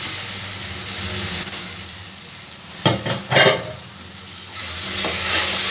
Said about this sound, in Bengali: একটু ভালো করে নাড়াচাড়া করব